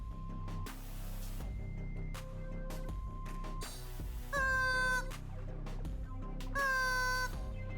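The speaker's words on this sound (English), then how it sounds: "I think the chicken can probably sing to this song." A rubber chicken toy squeals along to a song, two loud wavering squeaks rising over steady background music with plucked tones.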